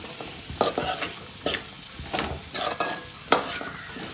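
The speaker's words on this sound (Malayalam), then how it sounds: "നല്ലതുപോലെ ഇളക്കി കൊടുക്കാം." Onions for chicken biryani stirred as they fry in a pan: a constant sizzle with repeated scraping strokes of a spoon against the pan, close and fairly loud.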